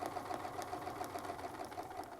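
A sewing machine stitches with a Westalee Spin E Fex ruler in a fast, even mechanical whir, continuous and moderately close, with no talking.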